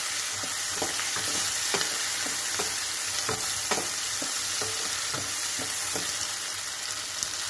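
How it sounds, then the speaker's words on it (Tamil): Onions sauté in hot oil with curry leaves and fennel seeds for a Kumbakonam kadappa. A steady close sizzle carries regular scraping stirs of a spatula over it. "வெங்காயம் நல்லா வதங்கட்டும்."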